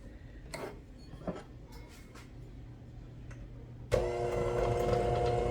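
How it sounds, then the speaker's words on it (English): An electric mixer starting up and whirring steadily through applesauce cake batter after eggs are added, following a few light clicks and taps. "We're going to start the mixer back up."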